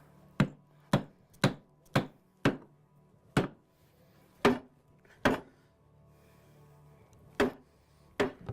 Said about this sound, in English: We use a axe with the end of it cut off to beat our chairs together.